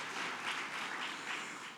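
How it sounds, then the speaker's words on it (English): Applause from an audience honoring elected officials at a city council celebration, a dense steady wash of many hands clapping at moderate distance, with no talk over it. "Let's give all of our elected officials a round of applause."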